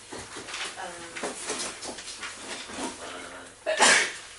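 A single sharp sneeze bursts out at the end, following a few seconds of quiet murmuring voices and breathing in a room.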